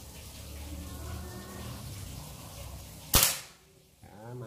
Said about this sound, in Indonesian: Tembakan kedua.